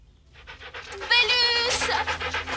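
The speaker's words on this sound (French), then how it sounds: "Bélus! Mon beau chien" A dog pants in quick, rhythmic breaths that build in loudness, close by, with a voice and some background sound mixed in.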